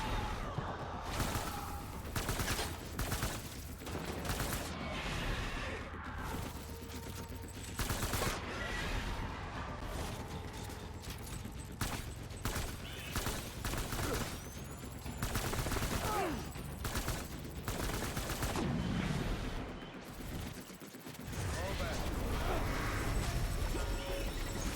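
Dense gunfire erupts in the Death Stranding 2 video game, with rapid bursts and volleys of shots, crashes and impacts layered throughout a chaotic firefight with occasional voices mixed in.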